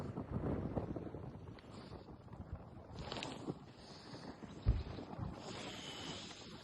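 A cool breeze on the Mount Kailash parikrama trek rushes and buffets against the microphone as a steady low roar with gusty swells, and no voices are heard.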